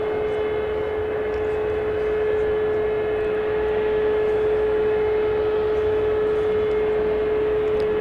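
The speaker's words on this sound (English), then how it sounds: "of Fiji Airways, an A350-900, headed back to Nadi International Airport in Fiji." Fiji Airways Airbus A350-900 at DFW Airport at night, a loud steady engine roar with a strong sustained whine, continuous and unchanging throughout, no voices.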